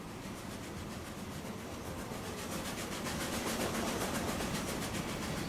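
Trains in Transport Fever 2 roll along the line as a steady, dense rumble and hiss of wheels and wagons, continuous at moderate level with no distinct clicks or whistles standing out.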